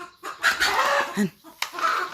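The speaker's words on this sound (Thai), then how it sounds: "ไก่อยากไข่ด้วยนะ ไก่อยากไข่ด้วยนะ" A hen clucks in short repeated bursts near a rural Thai home, close and fairly loud, with a person's voice mixed in among the calls.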